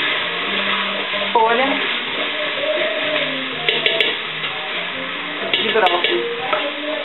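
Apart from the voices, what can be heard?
sautéing broccoli stalk, celery and tomato in a pan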